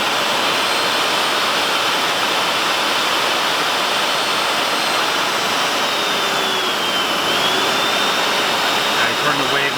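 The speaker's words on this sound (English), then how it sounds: "Now the blower goes up and down in speed by itself." A hot tub blower on a Champagne Series SW-DTHL control system in wave mode gives a loud, steady airy rush close by, its speed swelling and easing on its own, with a voice over it.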